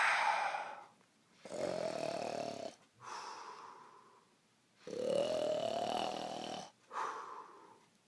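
Shadow Freddy snoring: slow, heavy rasping inhales alternating with wheezy, whistling exhales, four or five breaths in a steady rhythm, close and fairly quiet.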